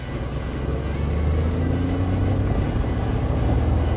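Artificial engine sound from a Mercedes-Benz G 580 electric, mimicking an internal combustion engine in comfort mode: a steady low hum with rising tonal drone, continuous and fairly loud, no talking.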